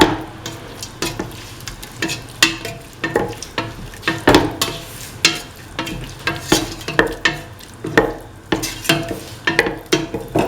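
A spoon stirs beef and ash gourd coconut milk stew in a pot, making loud, close, rhythmic scraping and clattering strokes against the metal over a bubbling sizzle, with no speech.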